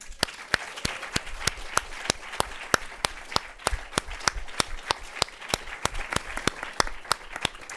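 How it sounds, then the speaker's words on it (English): Steady audience applause at a press conference for the film Call Me By Your Name, dense clapping from a crowd with sharp individual claps standing out, continuous and moderately loud throughout. "Let's keep that applause going."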